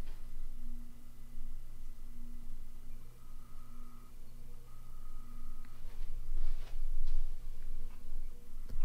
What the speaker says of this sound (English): This has the clicking tilt mechanism.